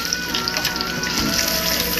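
Catfish fillets frying in a pan of oil, giving a steady close crackling sizzle with scattered pops throughout, no talk.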